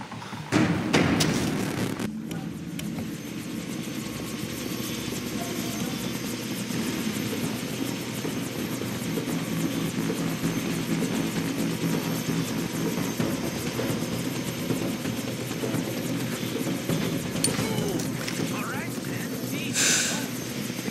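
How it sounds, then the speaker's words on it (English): Helicopter in the Far Cry 3 video game, a steady rotor and engine drone holding loudly for about twenty seconds, with thumps near the start and game speech and effects mixed over it. "I can't let them put Ollie in the chopper"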